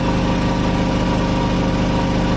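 A Narva 3300 petrol generator runs steadily under a 2.5 kW load, a loud close continuous engine drone with a firm low rumble and even, unchanging pulse throughout.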